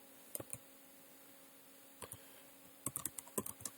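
Quiet keystrokes on a computer keyboard while Python code is written: a couple of isolated taps, a pause, then a quicker cluster of clicks near the end.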